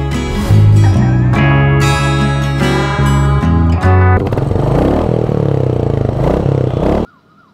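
A Triumph Speed 400 motorcycle engine accelerates hard, pitch climbing through several gear changes with brief dips between shifts, loud and close, then cuts off abruptly near the end.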